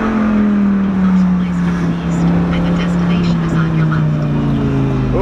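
A Lamborghini Aventador engine running in the morning, a loud, steady, close droning rumble whose pitch sags slightly as it holds, without clear breaks.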